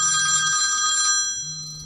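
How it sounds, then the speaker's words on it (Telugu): A telephone rings at a hotel reception desk late at night. The electronic trill is steady and close, lasting about a second before dropping to a quieter tone, with no talking. "అప్పుడే రిసెప్షనిస్ట్కి ఒక కాల్ వచ్చింది."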